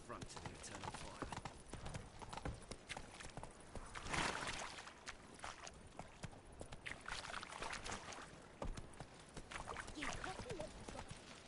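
Roach the horse's hooves clip-clop steadily on the ground in The Witcher 3, a continuous trotting rhythm with a rushing, watery ambience behind it.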